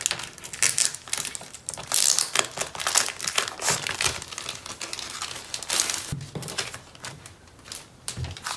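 A Take A Note TN Slim biweekly planner is unwrapped from its packaging, giving close, continuous crinkling and crumpling with sharp rustles and small taps for several seconds, and no talking.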